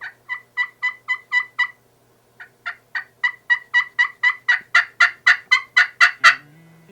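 Turkey pot call played by hand, a rapid series of about twenty clucks and yelps in two runs, the second building steadily louder and higher toward the end, close and clear with no talking.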